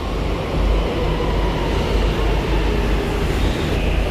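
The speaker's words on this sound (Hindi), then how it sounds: "तो अपनी मेट्रो आ चुकी है।" A steady, loud rumble of a Delhi Metro train rolling in, with a continuous low roar and hiss filling the space and no voices.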